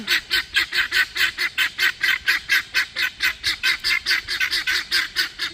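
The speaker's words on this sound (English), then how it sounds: "That is the guineas, as you guys can see." Backyard guinea fowl call loudly and nearby in a rapid, regular series of harsh repeated cries that carry on without pause.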